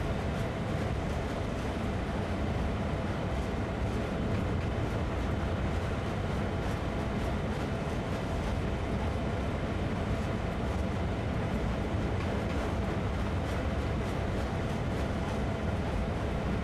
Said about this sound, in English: the train is, well, slowing down a bit. Because again, we are going uphill